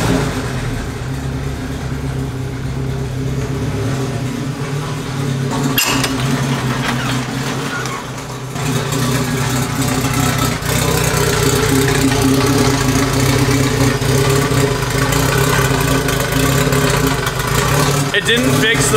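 A Honda B-series engine with a coil-on-plug conversion turns over and settles into a steady, slightly rough idle, loud and close throughout with a brief change partway through.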